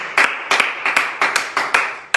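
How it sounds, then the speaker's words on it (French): Congregation in a church clapping in a steady rhythmic beat, sharp broadband claps repeating about every third of a second, loud and close, with no talk over them. "Applaudissez le Seigneur."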